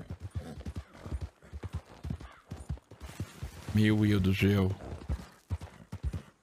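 Hooves of an old, tired horse clip-clop through Red Dead Redemption 2 gameplay, a steady plodding rhythm under continuous talk, with a loud, tonal horse whinny-like burst in the middle.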